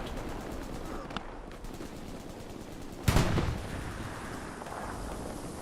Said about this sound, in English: Can the Axis artillery that's oh so close help stem back the tide?